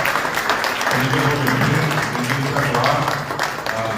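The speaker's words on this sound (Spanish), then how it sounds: "Les pido un aplauso fuerte para el profesor Delfín y para los niños que" Audience applause at a Guarani language and culture event in honor of a teacher and children, sustained clapping that stays loud throughout while voices talk over it.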